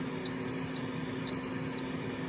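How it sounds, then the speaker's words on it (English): Two clear, sustained electronic beeps from an Instant Pot Vortex air fryer, signalling it has preheated and is ready, each lasting about half a second with a pause between, loud and alone over a faint background hum. "that's the signal that tells me it's ready to receive the food"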